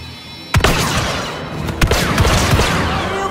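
Blaster fire in the Star Wars Battlefront II video game, with a sudden loud burst followed by repeated rapid energy shots and booming impacts layered over a dense battle din.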